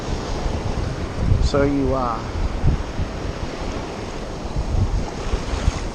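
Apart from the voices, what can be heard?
wind blowing by the water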